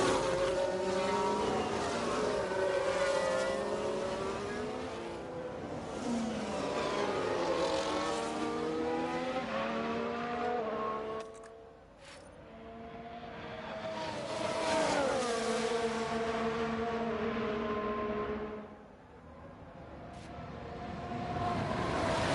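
Formula 1 race cars at the Miami circuit in F1 Manager 22, engine notes rising and falling in pitch as cars pass and shift, loud and continuous with several overlapping cars and a brief dip in the middle.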